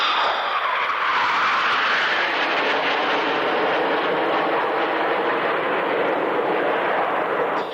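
Jet aircraft flying in formation at the Fairford airshow in 1996, a loud, broad, continuous roar that swells early on and then holds steady for several seconds before cutting off.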